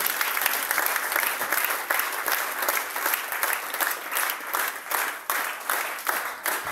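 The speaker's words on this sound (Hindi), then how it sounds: "एक बार जोरदार तालियां बचाइए कपिल चौधरी सर जी" Loud, dense applause from an audience at a motivational mentoring seminar, sustained for several seconds with steady rolling claps filling the hall.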